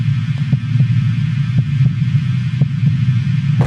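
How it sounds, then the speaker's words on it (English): Ambient sound effects from behind the walls of the Red Rooms in a Backrooms video game: a steady low droning hum with faint rhythmic throbbing pulses, continuous and fairly loud, with no voices. "I added some sound effects behind the walls of the Red Rooms"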